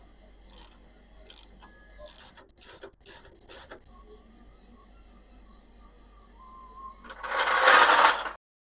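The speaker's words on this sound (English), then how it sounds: "I'm just in the process of bolting it back in." A ratchet wrench clicks in short bursts while a rear-end part is bolted back onto a 1965 Ford Galaxie in a garage. A louder, rougher mechanical burst follows near the end.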